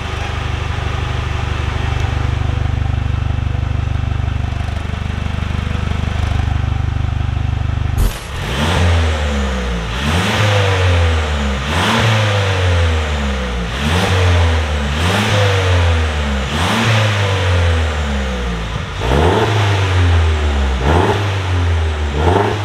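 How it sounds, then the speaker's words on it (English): Mercedes-Benz C300 (C205) with an Armytrix valved exhaust and downpipe: a steady loud drone, then the valve opens and a series of about six rhythmic rev blips rises and falls, deep and close. "As you can hear, a significant change in the tone of the vehicle as I open and close the valve."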